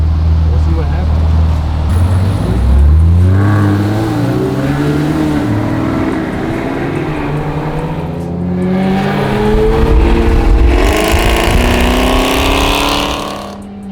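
A 2018 Chevrolet Camaro ZL1 pulling away from a green light, its engine roaring up through rising revs and gear changes, loud and close from behind the car, with people talking over it.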